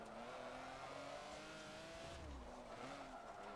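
A TBR race car in Forza Motorsport 7 revs hard, its engine note rising and falling through gear changes, with tire squeal running alongside; no voices.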